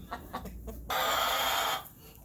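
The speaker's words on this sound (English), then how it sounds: "2 hens in here talking about laying an egg." Hens clucking softly inside a dark nest box, settling in to lay eggs on a cold winter day; a few low murmured clucks lead into a louder, sustained broadband squawk lasting about a second, close to the microphone.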